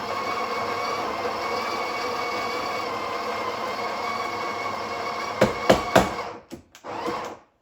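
A Breville Barista Express BES870 burr grinder runs steadily for about five seconds grinding a single dose of coffee, then stops, followed by a few sharp knocks and clatters as the grounds are settled.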